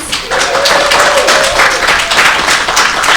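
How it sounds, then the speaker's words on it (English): Convention panel audience at MAGFest gives loud, sustained applause for the event staff, a dense wash of many clapping hands with a faint crowd murmur and a brief cheer-like tone early on. "give a really big round of applause to our MAGFest staff"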